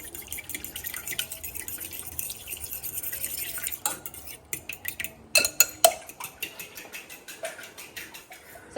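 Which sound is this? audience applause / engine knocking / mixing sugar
mixing sugar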